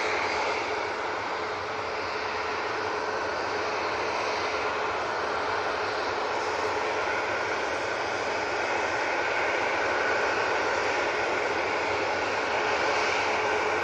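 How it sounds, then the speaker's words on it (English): A Jet2 Airbus A321neo lines up for departure at Manchester Airport, its engines giving a steady, broad roar that holds level throughout without any voices. "Jet 2 A321 Neo now lining up for departure."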